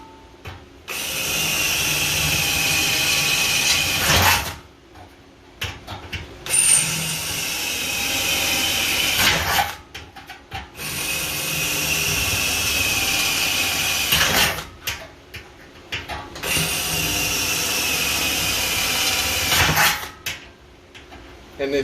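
A power drill bores holes in the body of a 1969 Mustang fastback. It runs in loud, sustained whining bursts of several seconds each, separated by short pauses, for about four runs.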